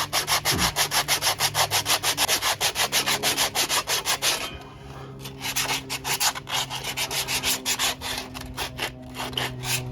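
An abrasive belt rubs back and forth across a brake surface, fast rhythmic sanding strokes repeating close and loud, briefly pausing midway before the scraping rhythm resumes.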